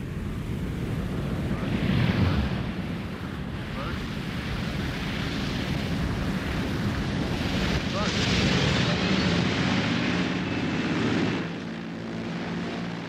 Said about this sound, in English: As the dangerously overloaded Caribou comes into land